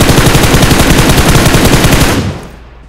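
Rapid gunfire from a mobile battle-royale shooting game, with an AWM sniper rifle among the weapons, rattling in a dense, loud continuous burst for about two seconds before cutting off into fading tail.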